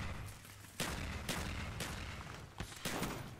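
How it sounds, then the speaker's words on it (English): Explosions and gunfire from Black Ops 1 gameplay: a rapid series of sharp, booming blasts repeating every half second or so, loud and close, with no talking. "what's the explosions"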